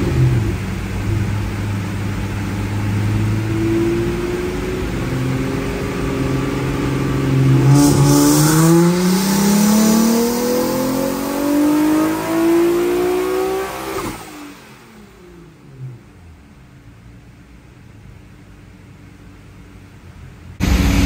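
A 900 hp Nissan 370Z engine on a tuning run winds up loudly to redline, its pitch rising steadily before cutting off into a quieter whooshing hiss and fan noise, with no voices.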